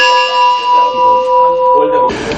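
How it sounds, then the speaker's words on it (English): A ceremonial bell rings repeatedly to open the day's trading at a stock exchange, a steady clanging peal of sustained metallic tones, loud and close, before giving way to a burst of broadband noise like applause at the end. "the Governor of the Central Bank opened today's trading by ringing the bell"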